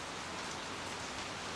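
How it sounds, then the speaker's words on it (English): Soft, steady rain falls on a quiet night, leaves rustling faintly, a continuous gentle hiss of drops on surfaces with no voices. "let us simply listen to the rain and be here in this moment"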